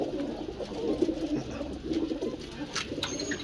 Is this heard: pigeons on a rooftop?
yes